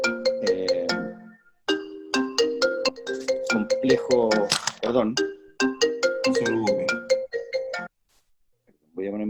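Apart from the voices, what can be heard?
phone ringtone from an incoming call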